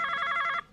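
A telephone rings with a rapid, bright electronic trill, loud and close, lasting under a second before cutting off abruptly.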